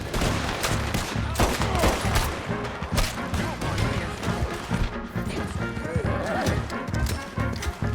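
Shootout gunfire in the video game Red Dead Redemption 2 sounds as rapid overlapping shots and crashes, mixed with horse hooves and whinnies and game characters shouting throughout.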